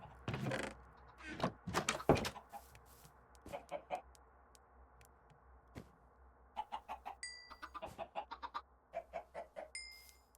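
Minecraft chickens cluck in short scattered bursts, with a few soft chiming game sound effects mixed in over a quiet background.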